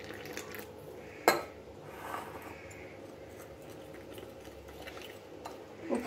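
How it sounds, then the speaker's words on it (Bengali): A thick spice batter is stirred with water in a bowl, making quiet wet mixing sounds with one sharp clink of utensil against the bowl and a few softer knocks. "জল দিয়ে ঘনত্বের একটা ব্যাটার তৈরি করে নেব"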